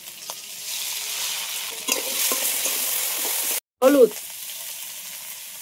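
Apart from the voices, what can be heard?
spice paste being sautéed and stirred with potatoes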